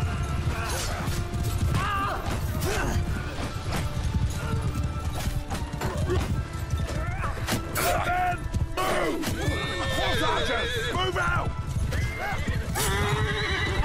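Horses whinny and hooves clop amid a busy Mount & Blade II: Bannerlord battle soundscape with mechanical clanks and creaks, while people talk over it.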